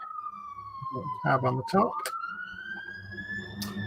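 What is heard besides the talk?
sirens outside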